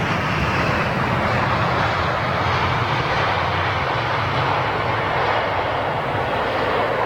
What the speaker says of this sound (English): look, Tarom 737, here we go